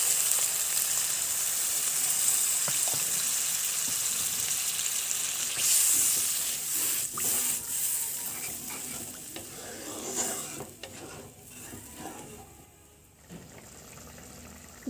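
Water poured into hot frying ground mustard paste and spices for a Bengali chapila fish curry, a loud close hissing sizzle with pouring splashes and stirring scrapes that slowly calm down, with no talking.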